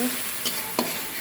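Fish curry stir-fried in a pan, a constant close sizzle broken by two quick scraping strokes of a spatula, with no talking.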